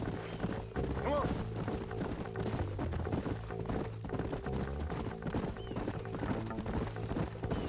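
Horses gallop in the Western video game Red Dead Redemption, a steady, rapid clip-clop of hooves running throughout, with a brief whinny early on, backed by soft music and low voices.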